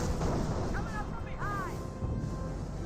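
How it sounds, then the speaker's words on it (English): Gunfire strikes a StuG assault gun in Company of Heroes, a World War II strategy game, amid a dense, continuous battle din of shots and rumbling impacts with a few short whistling tones. Steady and loud throughout. "Stug receiving a bit of fire there."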